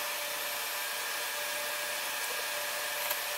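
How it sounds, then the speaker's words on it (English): A heat gun set to 315 degrees Celsius blows hot air onto an iPhone 13 Pro Max motherboard during repair, a steady, even hiss of airflow with no breaks, close and moderately loud. "we can apply heat with the heat gun at 315 degrees Celsius and clean the traces"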